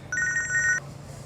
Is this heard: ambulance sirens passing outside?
no